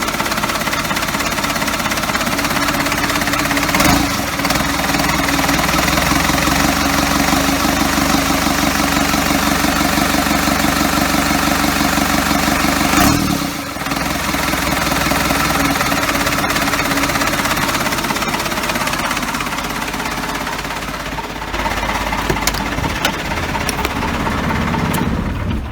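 An engine fires for its first start after a custom motor mount install, running with a loud, rough, knocking clatter that stays steady, dips briefly partway through and then continues alone.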